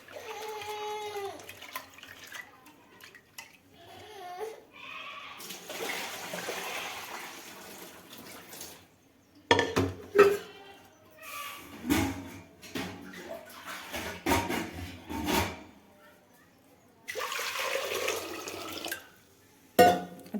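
Home-grown dal from the family farm being rinsed in water, with bursts of pouring and sloshing between quiet gaps and occasional handling clatter.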